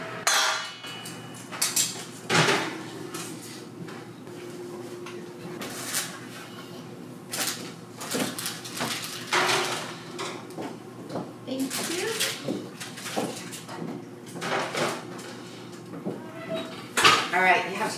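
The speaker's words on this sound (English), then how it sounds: "Okay, so we're gonna put it back into the oven." A granola tray slides back into a kitchen oven amid clanks and knocks of metal and the thud of a door, a series of sharp impacts scattered over steady background with a voice talking throughout.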